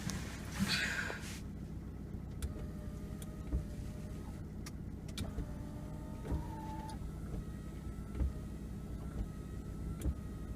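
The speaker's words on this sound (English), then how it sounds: "Rear wiper works very well." Rear window wiper motor of a 2011 Ford Escape XLT AWD runs in a quiet cabin, giving a low whirring hum with soft mechanical clicks and thumps every second or two.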